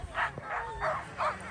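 Iditarod sled dogs at a race stop bark and yip in several quick overlapping calls, fairly near and moderately loud, with faint background noise around them.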